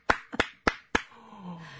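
Four sharp hand claps in quick succession, close and crisp, followed by a faint murmur in a radio studio.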